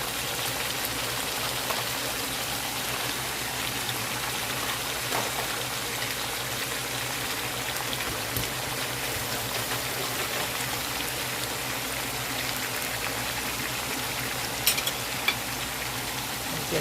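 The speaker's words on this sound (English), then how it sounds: "At this point, I'm going to add my onions and green peppers." Onions and green peppers fry in a pan, giving a continuous dense sizzle with faint crackles and occasional light stirring, close and steady throughout.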